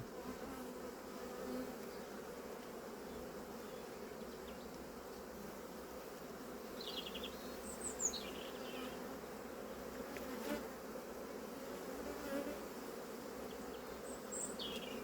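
Steady, dense buzzing of many honeybees close by at the hive, a continuous low drone with occasional brief higher chirps from other insects or birds in the distance.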